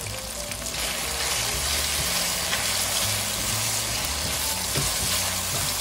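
Onion for squid adobo fries in a pan with a steady, close sizzle and a bright hiss that holds evenly throughout, without any talk.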